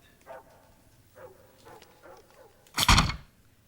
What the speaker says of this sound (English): The dog's really barking.